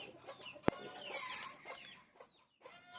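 Scattered hen clucks and soft fowl calls from a rooster and hen at moderate distance, with one sharp click partway through and a brief quiet gap near the end.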